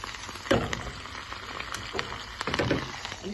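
Tomato chutney cooking slowly in a pan, with a soft low sizzle and a few quiet bursts of spattering and stirring, close by and faint overall.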